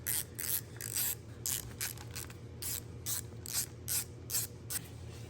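A ratchet wrench loosens two 8mm bolts on a motorcycle throttle housing, producing steady rapid clicking strokes in a regular rhythm, close up and faint.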